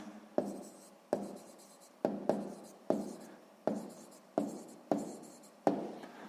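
Pen writing out a sixth-grade maths solution on paper, heard as a series of about nine close scratchy strokes, each a sharp onset fading off, with no talk.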